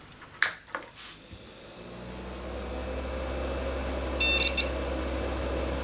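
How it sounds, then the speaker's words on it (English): A mystery retro computer system found on the street boots up. It gives one short, shrill beep over a steady fan hum, after a few clicks and thumps. "That beep is kind of strange."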